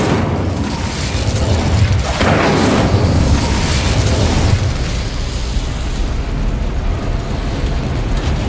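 Incendio fire spell bursting in Hogwarts Legacy, a loud roaring explosion with a sharp pop and booming blast that then fades into a sustained crackling rumble, with no voices.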